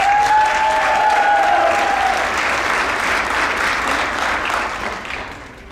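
A crowd at a high school mid-year graduation ceremony applauds CNA students, with a thick sustained wash of clapping that gradually fades toward the end and a brief whistle early on.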